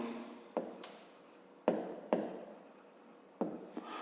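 Close pen or pencil strokes writing a math expression on paper, heard as several short scratchy bursts separated by quiet pauses, with no talking.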